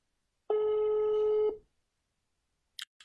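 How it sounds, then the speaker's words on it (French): A telephone tone heard over the line while a call is placed for an interview: one steady, buzzing one-second tone, followed by a couple of faint clicks. "Je vais appeler Michel par téléphone."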